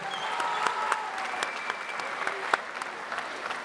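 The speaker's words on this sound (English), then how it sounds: "can we get a big round of applause for both fighters after an excellent contest there?" Crowd applause for both fighters after a kickboxing bout, scattered moderate clapping from a modest audience with a few whistles and calls mixed in, fading slightly toward the end.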